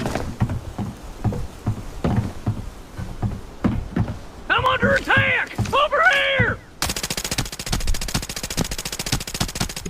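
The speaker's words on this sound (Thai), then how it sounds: "วันนี้มีเสียงปืนถึงบ้านกลางนะครับ" Rapid bursts of gunfire in the video game Arena Breakout crackle in quick succession, interrupted by a short stretch of sharp ringing tones, then sustained rattling fire resumes.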